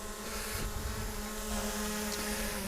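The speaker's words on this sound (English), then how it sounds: "get the drone on the ground first now" Camera drone hovering low over a forest floor before landing, a steady buzzing whine with a strong tonal hum, continuous and fairly close throughout with no talking.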